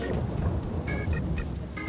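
Thunderstorm with rain on a hillside: a continuous low rumble of thunder under steady rainfall, loud and unbroken, with a few faint tonal beeps on top.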